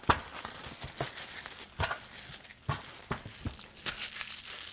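Plastic wrap being cut with a blade and pulled off a Poco F2 Pro phone box, giving close, irregular crinkling and tearing bursts at moderate volume with no voices.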